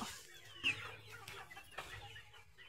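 Soft, scattered clucking from a few hens nearby at a goat farm at night, with a brief sharper squawk early on and quiet background noise.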